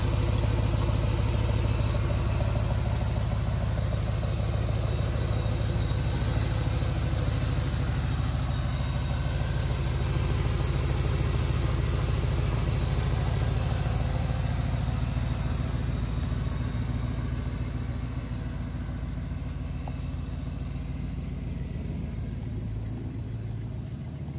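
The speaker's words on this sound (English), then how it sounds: "So how does that sound from the back? Dual exhaust." A 1965 Oldsmobile Ninety Eight Holiday Coupé with a Holley 600 carburetor and dual exhaust idles steadily, giving a continuous low rumble that stays even and unbroken, heard from the rear of the car.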